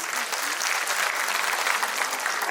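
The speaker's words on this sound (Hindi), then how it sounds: "हमारी सखियों के लिए जोरदार तालियां हो जाए प्लीज।" Sustained, dense applause from a large audience at a state-level conclave for LIC Bima Sakhi women, steady and loud throughout with no voices over it.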